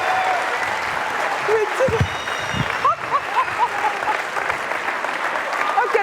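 A French television studio audience claps steadily through the whole stretch, with a host's voice talking briefly over the applause.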